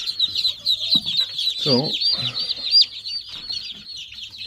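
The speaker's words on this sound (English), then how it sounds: "And we got baby little Muscovy ducks." A crowd of baby chicks and Muscovy ducklings peeps constantly and shrilly at close range, the high chirps overlapping without pause while a voice speaks briefly.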